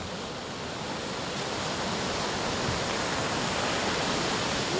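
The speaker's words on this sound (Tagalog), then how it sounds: "Ang lalaki ng alon dito, oh." Large waves crash continuously onto the shore at Bucana during Super Typhoon Uwan, a loud, steady broadband roar of surf with some wind, with no pauses throughout.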